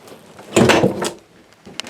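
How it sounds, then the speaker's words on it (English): A door shutting inside a homemade truck camper: one solid thump with a short rattle, near and loud, then a small click just after in the quiet. "close the door."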